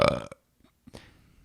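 A single loud burp right at the start, followed by a short tail and faint rustling, with a second softer bodily noise near the end; no speech.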